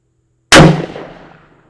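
A single loud, close gunshot from a Smith & Wesson 627 V-Comp revolver fired at a target at 25 yards, a sharp crack followed by a ringing decay lasting about a second.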